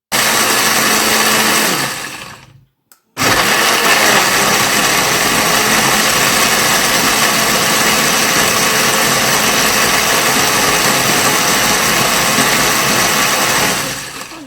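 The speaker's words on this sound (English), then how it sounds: "So we're going to crush it and then we enter into the blending properly." A blender grinding corn for moin moin runs loud and steady, briefly stopping after about two seconds and then restarting into a continuous high-pitched whirring.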